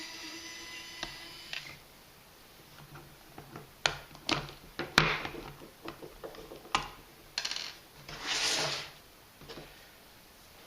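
A LIFEGOO electric screwdriver drives screws into plastic, giving short whirring bursts and clicky ticks in an irregular rhythm, close but fairly quiet, with one longer whir near the end and no talk.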